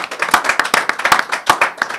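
An audience in a hall claps for guests at a signing ceremony between an airline and a hotel group, a dense burst of quick overlapping hand claps, loud and close.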